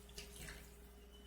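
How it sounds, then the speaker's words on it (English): Water poured into a simmering meat and vegetable filling for Latin Caribbean pastelitos, a faint, brief splashing trickle over a low steady background hum. "I'm going to add a little water."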